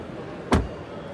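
One solid car door thud from a 2024 Peugeot 208 hybrid, close by, over a low steady background hum.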